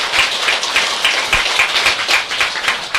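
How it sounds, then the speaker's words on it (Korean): An audience clapping, a dense continuous wash of hand claps that holds at an even, fairly loud level throughout, with no voices on top. "큰 박수 올려주시기 바랍니다."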